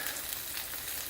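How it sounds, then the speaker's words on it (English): Tilapia fillets frying in a crowded pan give a dense, steady sizzle with a bright crackling hiss, close and unbroken for a moment. "they're sizzling nicely"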